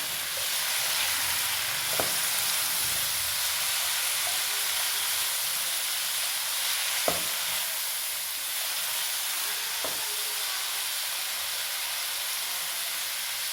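Egg fried rice ingredients are stirred and mixed in a hot pan, giving a steady sizzling hiss throughout with a few sharp scraping clicks of the spatula against the pan.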